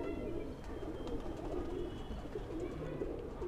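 A pigeon coos softly close by, a low steady murmur with no talking.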